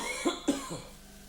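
Two short coughs from one person in a quiet room during a doctor's chest exam, each a sharp burst, followed by a softer throat-clearing rasp.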